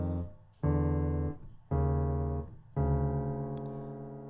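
Three piano chords from a jazz arrangement of a song struck in turn, each held and ringing before the next, warm and close with no voices.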